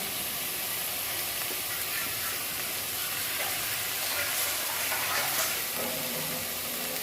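Tomatoes and small fish fry in a pan with a little mustard and dried red chilli paste, giving a steady, loud, dense sizzle and hiss that holds evenly throughout with no voices.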